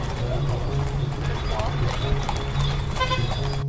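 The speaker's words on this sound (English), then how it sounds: "Experiencing a horse-drawn Kalechi ride through modern Marrakesh." A horse-drawn carriage (calèche) ride through modern Marrakesh: steady, close hoof clip-clop on pavement with a continuous low street rumble, and voices talking over it.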